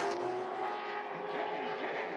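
A race car at South Boston Speedway, a CARS Tour event, drones steadily through turns 3 and 4. The engine note holds at an even, moderately loud level with no speech.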